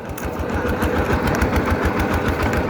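A two-wheel walking tractor's small engine runs steadily and close by, a continuous rapid chugging drone with an even beat and no pauses, heard out in the countryside the morning after rain.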